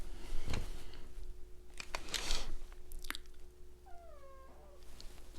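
A cat gives a single clear, falling meow near the end, preceded by a few soft clicks and rustles in a quiet room.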